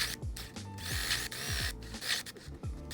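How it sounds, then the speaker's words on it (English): A power drill whirs in short, close bursts, its motor pitch rising and dipping as it bites into a trunk lift support part for a Fox Body Mustang. "We'll drill this away from the car."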